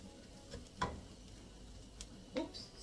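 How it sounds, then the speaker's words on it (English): Arroz con pollo, chicken and rice, stirred in a pot over a low simmer, a quiet sizzle broken by a few soft scrapes and taps of a utensil against the pot. "Stir it up, stir it up."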